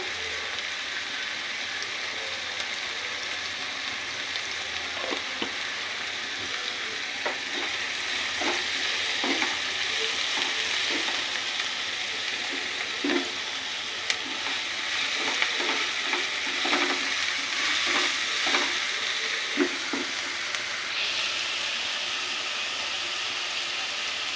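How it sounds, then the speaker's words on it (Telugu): Chopped onions with salt and turmeric sizzle steadily in a pan over low heat for a fish curry, a soft continuous frying crackle with occasional stirring clinks and pops throughout, no voices. "ఆనియన్స్ ఇలాగా సిమ్లో వేగాలి చూస్తున్నారు కదా"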